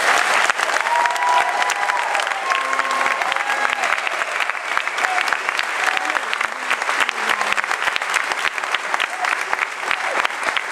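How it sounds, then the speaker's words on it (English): Sustained applause from an audience at a 6th grade middle school band concert, dense and even throughout with a few voices mixed into the crowd. "Let's give the students one more round of applause."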